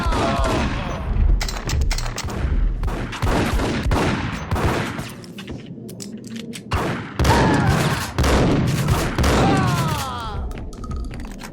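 Gunfire in the PC shooter Max Payne from 2001, dense rapid bursts of close, loud shots in near-continuous volleys with brief gaps, thuds and crashes mixed in.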